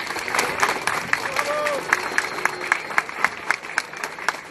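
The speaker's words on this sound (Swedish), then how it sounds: "En varm applåd för William." A crowd at an outdoor town-square rally in Växjö gives a warm round of applause for William Hane, steady moderate clapping with scattered cheers, growing more distinct and punchy toward the end.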